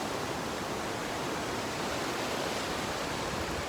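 River water at Tad Lo, Laos rushes past in a steady, broad wash of noise, constant and fairly soft with no voices.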